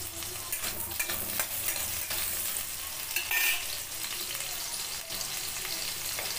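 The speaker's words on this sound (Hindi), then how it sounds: "एक आलू को मैं इस तरह से कट कर ली हूँ और इसे तेल में फ्राई कर लेना है" Raw potato pieces fry in a couple of spoons of oil in a kadai, giving a steady close sizzle with occasional stirring scrapes and no talking.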